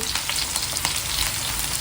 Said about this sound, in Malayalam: ഇവിടെ സുഗുണ ചിക്കൻ വറുത്തോണ്ടിരിക്കുകയാണ്